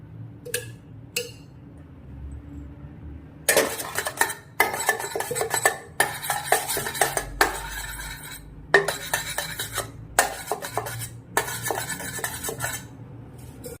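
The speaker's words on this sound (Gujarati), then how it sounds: "હવે આપણે ઇડલી મેકરમાં તેલ લગાવી લઈશું।" Oiling the metal plates of an idli maker: after a quiet start, repeated close metallic clatters and clinks of the stacked steel plates being handled and set down, in irregular bursts separated by short pauses.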